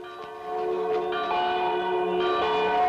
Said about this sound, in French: Qui est-ce qui sonne les cloches?